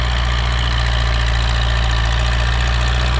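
Loud, unbroken diesel chugging from a YUMZ D-240 tractor engine holds a steady, deep throb at close range, with no one talking.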